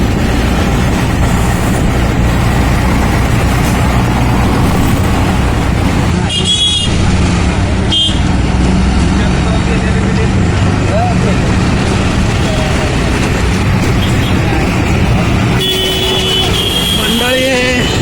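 Steady, loud road traffic roars along the Panvel-Sion highway beside Sanpada station, with continuous engine rumble, passing vehicles and a few horn-like tones over about eighteen seconds.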